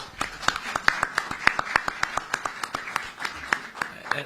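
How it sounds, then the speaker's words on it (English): At a CAF press conference, a small audience claps for Arsene Wenger, sparse distinct hand claps with irregular spacing, fairly close against a quiet room with faint murmuring. "Let's clap hands for Arsene Wenger, please."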